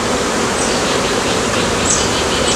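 A packed single brood chamber honey bee hive, heavily populated with bees bearding on the front, gives off a constant, even hum of buzzing wings, close and unbroken with no voices.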